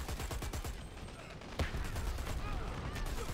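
Grenades and gunfire crackle and pop faintly in the online shooter Dirty Bomb, with rapid bursts and one sharper blast in the middle of the clip, low in the mix under a match broadcast.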